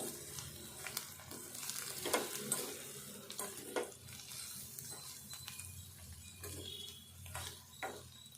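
Dried fish fries in oil with salt and chili coating, a steady soft sizzle close by with occasional sharper pops and spatters, heard alone without talking.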